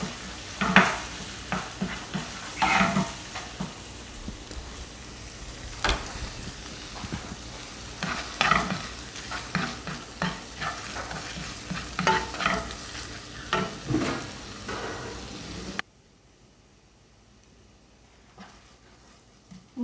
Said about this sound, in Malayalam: എല്ലാം കൂടി നന്നായിട്ട് മിക്സ് ചെയ്യാം.